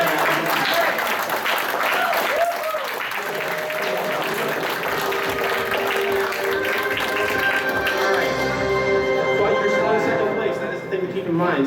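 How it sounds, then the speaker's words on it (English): Audience applause at a convention game show fills the opening seconds, then fades under music and talk as the crowd settles. "Everyone applause."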